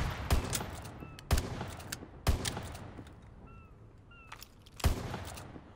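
Gunfire in the World War II shooter game Call of Duty WWII, a few loud, sharp shots spaced about a second apart with short echoing tails, plus faint whizzing effects between them.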